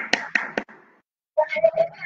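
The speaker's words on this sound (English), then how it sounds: "Clap for Adyasari." Three quick hand claps from children in an online playgroup class. After a short pause, faint voices speak.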